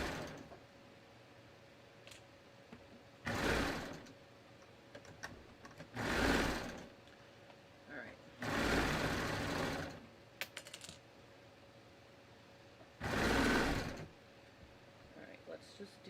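A serger stitches a sleeve side seam on a garment, running in four short bursts of loud whirring with quiet pauses between them, the last stretch passing an already serged pocket seam.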